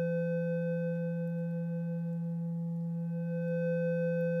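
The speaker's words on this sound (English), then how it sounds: "the sine wave being mixed with a second sine wave" Two mixed sine waves form a steady electronic tone that holds without a break, a pure low hum with faint higher overtones, constant in loudness throughout.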